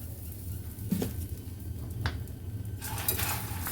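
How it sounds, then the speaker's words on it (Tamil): A roasted spice mix with asafoetida for stuffed brinjal is stirred in a pan, producing a few scraping strokes and light metallic clinks over a faint low sizzle. "இது எல்லாத்தையும் இப்போ நல்லா கலந்துக்கலாம்"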